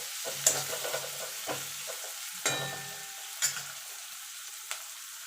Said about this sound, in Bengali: পেঁয়াজটা একটুখানি ভাজা ভাজা হয়ে গেছে।